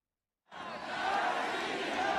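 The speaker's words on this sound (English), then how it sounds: "In Moscow, the crowds chanted "Russia, Russia,"" After a moment of silence, a large crowd in Moscow swells into a loud, sustained roar of massed voices chanting, heard at a distance as a dense, continuous wall of cheering.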